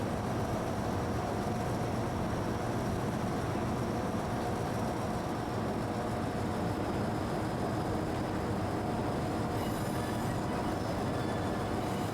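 A long crude oil train hauled by a Class 50 locomotive in Transport Fever 2 rolls past as a steady, dense rumble of wheels and wagons on rail, loud and continuous throughout without any talk.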